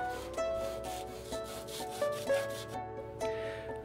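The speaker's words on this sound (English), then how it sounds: "I'll use some sandpaper to even it out." Sandpaper rubbed back and forth to flatten a cut piece of a bronze sagebrush casting, a faint close scratchy rasping in irregular strokes over a quiet ringing background.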